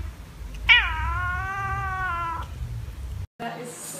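A single long, drawn-out cat meow, close and clear, followed by a brief pause and a short rustle.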